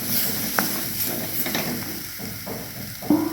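Chicken masala and garam masala are stirred in a sizzling, oily pan. A continuous frying hiss carries the occasional scrape and clack of a spoon against the pan.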